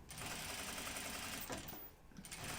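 A sewing machine understitching bias binding on a garment neckline facing runs in a steady close whir, with a brief slowdown before resuming.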